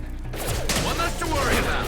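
Short flurry of gunfire during combat in Mass Effect 2, a few close rapid shots with clatter, fairly soft under the surrounding game sound.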